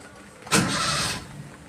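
Carbureted Toyota Kijang Kapsul engine, under carburetor tuning, cranks and catches with a sudden loud burst halfway through, then runs roughly at a steady close level for about a second before easing off.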